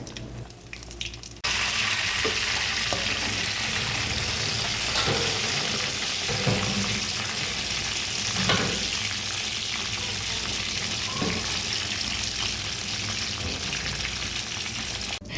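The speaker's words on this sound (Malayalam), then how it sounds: "ഇനി നമുക്ക് ഞണ്ട് ഈ പാത്രത്തിനകത്തിട്ട് വറുത്തെടുക്കാം" Crab pieces fry in hot oil in a pan with a steady, loud broadband sizzle, broken by occasional clinks and stirring scrapes; no voices.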